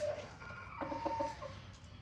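A McLean bullstag rooster clucks in short, soft calls over a low, steady background hum, with a couple of brighter clucks in the middle; quiet and somewhat distant.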